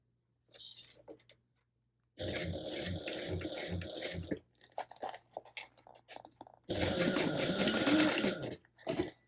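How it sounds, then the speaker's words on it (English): A sewing machine stitches the boxed corner of a beach pouch at a 3/8-inch seam allowance, running in two loud bursts of rapid mechanical chatter separated by quieter handling clicks and pauses. "go ahead and stitch this corner at 3/8-inch seam allowance"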